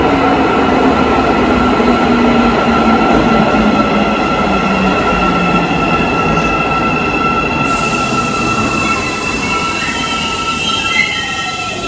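An Almaty metro train runs loudly through the underground, wheels roaring and squealing on the rails with a steady rumble and rising pitch tones throughout.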